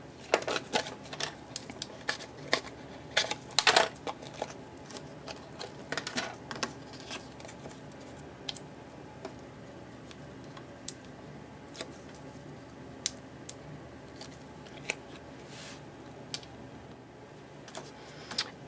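Paper being trimmed for a handmade Thanksgiving card, producing a series of small crisp clicks and snips, irregular and close, with quiet rustling between them and no talk.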